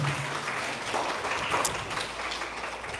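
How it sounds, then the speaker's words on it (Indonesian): Applause from an audience at an Indonesian talk session, a steady, dense wash of clapping running the full length at moderate loudness, with no voices over it. "Boleh tepuk tangan dulu Ibu dan Bapak."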